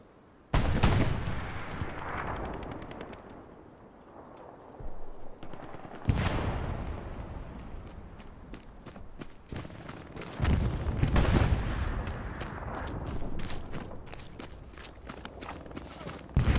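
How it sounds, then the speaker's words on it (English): Machine gun rounds firing in the Hell Let Loose video game during a competitive match, with repeated bursts and scattered gunshots rattling through a loud, continuous battle soundscape. "MG rounds zipping right in front of Big Vivo"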